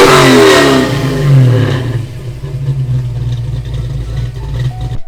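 A car engine revs hard in a couple of sharp bursts, then falls back to a rough, rumbling idle, loud and close with no talking.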